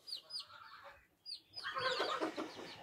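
A hen on a farmyard clucks in short soft bursts beside her chick, with thin high peeps and a rise of busier clucking and scratching toward the end, fairly close and faint.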